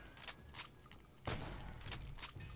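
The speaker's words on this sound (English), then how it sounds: "the shotgun does extremely fucking well against these guys" Shotgun fire in Return to Castle Wolfenstein, with a string of quiet, sharp blasts spaced unevenly across a couple of seconds and one stronger shot near the middle.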